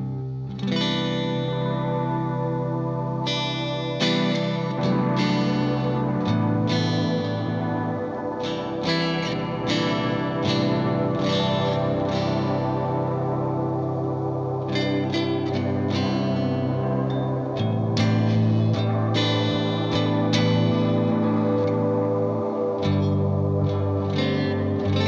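A Hungry Robot The Wash v2 combo delay pedal driven hard with its wash circuit and resonance turned up, producing a dense, continuous ambient guitar wash with swelling chorus-like echoes, repeated strummed attacks and a thick, slightly distorted reverberant tail, with no talking.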